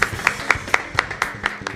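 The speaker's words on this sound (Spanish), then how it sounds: "pido un fuerte aplauso, por favor" A small audience at an open talk on Radio Manicomio applauds a guest speaker with a brief, evenly paced run of clear hand claps, close and moderately loud.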